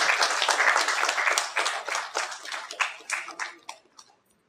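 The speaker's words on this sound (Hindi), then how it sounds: "मैं चाहूंगा एक बार इस इनिशिएटिव के लिए जोरदार ताली से मैम का स्वागत किया जाए।" An audience at a Hindi comedy stage play claps in warm, dense applause to welcome a guest, loud at first and then thinning into scattered claps that fade out.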